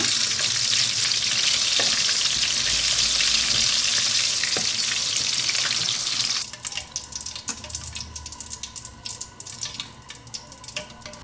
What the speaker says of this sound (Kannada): ಎಣ್ಣೆ ಚೆನ್ನಾಗಿ ಕಾಯ್ದಿರಬೇಕು ಮಿರ್ಚಿ ಹಾಕಬೇಕಾದಾಗ